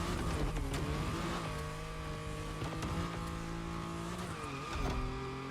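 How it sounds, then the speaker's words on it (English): A car in The Crew Motorfest slides sideways with its engine droning and revving while the tires squeal and skid continuously, loud and up close. "Tried to throw the car sideways and it didn't want to slide."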